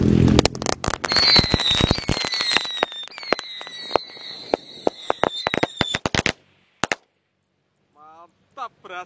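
Firecrackers set off inside a bottle, a rapid crackling string of sharp pops and whistles for about six seconds, then a few scattered late bangs and a short squeal.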